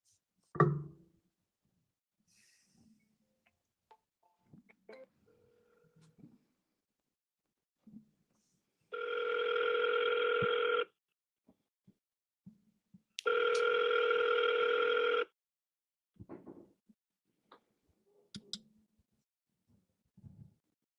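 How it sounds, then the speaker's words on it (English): An outgoing call on a telephone handset: two long steady ringback tones, each about two seconds and spaced a few seconds apart, with quiet faint clicks and rustles between them and no talking. "I'm dialing right now."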